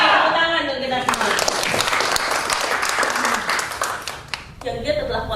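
Audience applause at a business seminar, a loud, full burst of clapping throughout, mixed with cheering voices and a speaker talking over it at the start and end.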